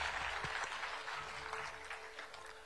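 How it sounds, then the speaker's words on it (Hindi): Audience applause at a televised conference event in a hall, a steady broadband wash of clapping held at moderate level for under three seconds, with no talk over it. "जोरदार तालियों से बहुत बहुत शुक्रिया"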